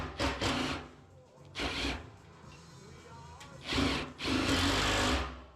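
A nut being tightened onto a bolt on a barrel stove with a power driver, which buzzes in short whirring bursts separated by pauses, two brief and two longer, close and loud.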